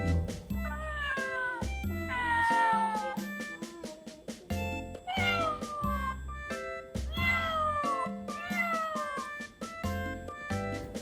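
A cat meows loudly again and again, long drawn-out wailing calls in a repeating rhythm, close by.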